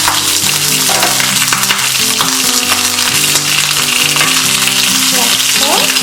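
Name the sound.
peppers roasting in a pan, being turned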